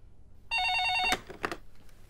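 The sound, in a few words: telephone ringing during a call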